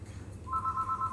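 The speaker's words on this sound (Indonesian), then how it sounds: "Ada yang telepon." A telephone rings with an incoming call, a steady electronic warble that starts midway and repeats in short pulses, heard alone over faint room noise.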